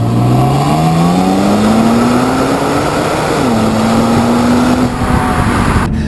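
A 2017 Infiniti Q60 Red Sport 400 AWD with a 3-liter twin-turbo V6 accelerates hard, its engine note climbing steadily through a gear change, loud and close over strong road and wind noise with no talk.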